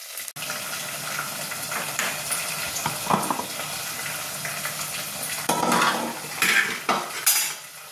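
Onions frying in a pan with curry leaves and finely chopped coriander added, a steady close sizzle broken by several bursts of stirring and spoon scrapes against the pan, with no voices.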